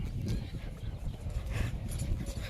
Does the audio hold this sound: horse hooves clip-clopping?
yes